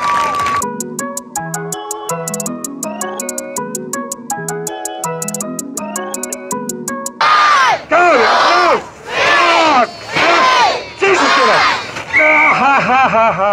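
Crowd at a street show cheering and shouting in loud bursts after a stretch of music, voices whooping in repeated waves.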